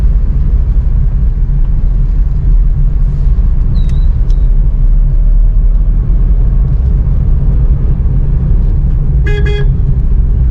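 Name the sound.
car driving in traffic, engine in second gear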